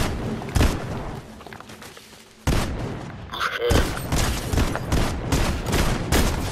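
Gunfire in a Fortnite battle royale duo match: a sparse shot or two, a brief lull, then sustained rapid bursts of shooting, loud and close throughout.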